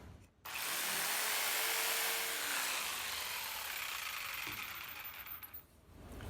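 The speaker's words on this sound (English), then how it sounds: "So now I'm just going to go ahead and take the jigsaw and cut around this inner circle." A jigsaw cuts around an inner circle in wood for a key holder, a steady loud buzzing rasp that starts abruptly and runs for several seconds before stopping, with no talk.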